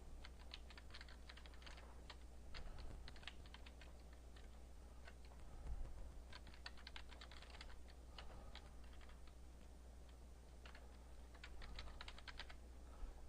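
Computer keyboard typing while entering keyword tags for a blog article, quiet clicky keystrokes in short irregular bursts with pauses between, close and soft over a low steady hum.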